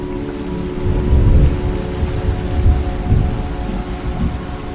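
Steady rain falls on a rainy day, a dense, constant hiss with soft, low rumbles swelling beneath it, fairly loud and with no voices.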